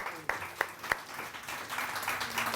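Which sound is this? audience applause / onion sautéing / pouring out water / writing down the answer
audience applause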